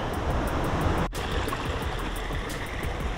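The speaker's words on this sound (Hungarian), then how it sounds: "itt amerre a szemmel lát, itt mindenütt a víz csordogál" Water trickles and rushes along a mountain hiking trail in the Retezat mountains at about 1600 m, a steady close wash of broadband noise with a faint wind-like hiss and no talk.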